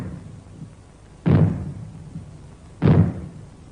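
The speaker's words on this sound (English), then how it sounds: "you will hear 3 bangs in short succession. They will be sounded by means of maroons like this" Two loud, booming bangs from maroon explosive warning signals, about a second and a half apart, each with a quick rumbling decay, over faint background noise.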